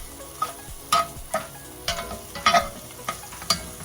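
Chana masala sautéing in a pan sizzles up close while a spoon knocks and scrapes against the pan every half second or so.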